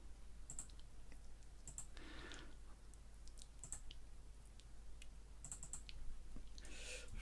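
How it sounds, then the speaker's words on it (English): Computer keyboard keys and mouse buttons clicked in sparse, irregular bursts, close and crisp against a low steady hum, no voices. "I'm going to press the escape key just to get rid of that"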